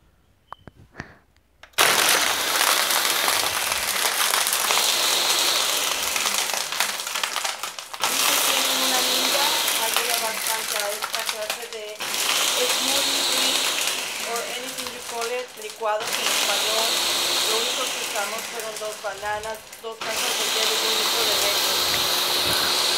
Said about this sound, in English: Start your blender.